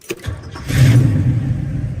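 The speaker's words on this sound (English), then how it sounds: "Start up our 66 El Camino." A 1966 Chevrolet El Camino engine cranks briefly and catches, settling into a loud, rough idle rumble close up, with no talk.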